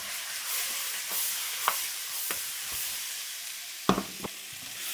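Potato wedges fry in hot oil in a pan, giving a steady soft sizzle with a few sharp pops and crackles scattered through, close by and without talk.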